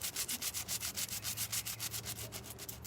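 Cheap 80-grit dollar-store sandpaper rubs back and forth on a surface in fast, even strokes, a close, rhythmic scratchy rasp repeating steadily about every tenth of a second with no talking.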